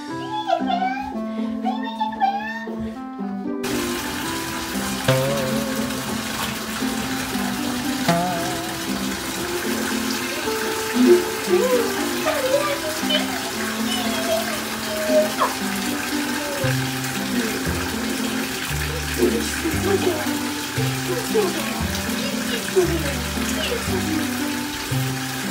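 A bathtub fills for a dogs' bath as water gushes steadily from the tap in an echoing bathroom, running loudly throughout after a short stretch of talk at the start.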